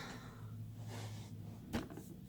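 A makeup drawer in a stacked storage unit slides open with a brief scraping clunk near the end, over steady low room hum.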